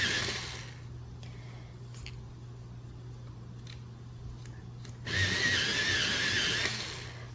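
A sharpener grinds Castle Arts colored pencils with tough wood casings, a close, harsh motorized whir in two bursts, one short at the start and a louder, longer one near the end, with quieter handling between.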